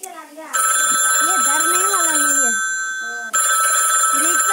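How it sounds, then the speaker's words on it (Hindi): A telephone rings with a steady electronic trill, loud and close, briefly pausing then resuming, with a voice speaking early on. "साले भोजरी के फोन मत उठा भूत का होगा शायद"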